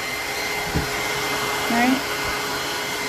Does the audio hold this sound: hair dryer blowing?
yes